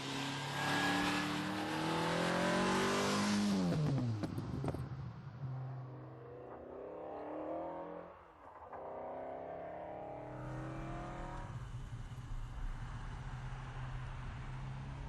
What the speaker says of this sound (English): I am driving the noisiest, most exciting and fastest car this side of a Lamborghini Diablo.